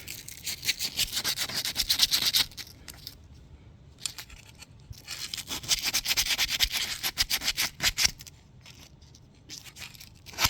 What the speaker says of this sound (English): Just sand it good.